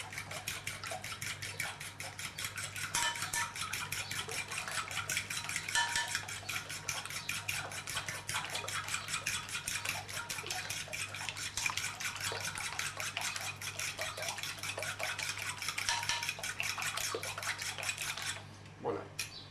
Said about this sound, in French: Nous allons commencer à battre nos œufs. Avec une fourchette de préférence, pour bien l'aérer.